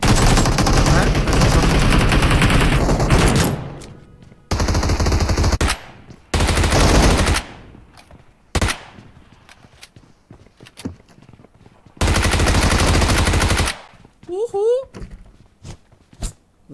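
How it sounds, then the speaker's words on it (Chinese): Gunfire in PUBG, a battle royale video game, with loud bursts of automatic fire in the first few seconds, then separate shots and long bursts between quiet gaps, plus a few short footstep-like sounds near the end. "枪声在这个房区有过一传四哦"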